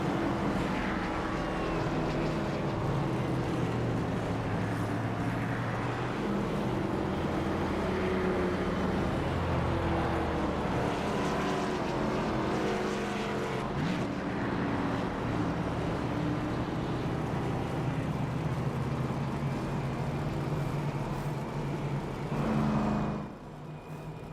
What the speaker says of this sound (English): About those cars coming down pit road, trying to get that damage fixed